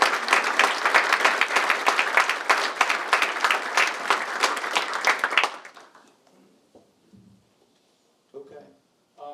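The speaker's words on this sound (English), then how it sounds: "Let's give them a round of applause." Audience at a city State of the City presentation in Taylor applauds board members and cabinet, a dense, steady burst of clapping for about five seconds that quickly dies away, followed by faint murmurs and a voice.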